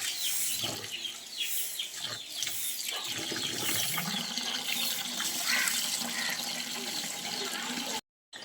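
Tap water runs and splashes in a bowl as rice is rinsed by hand for pulao, with clinks and swishes of grains and water throughout, moderately close, ending in a brief cutoff.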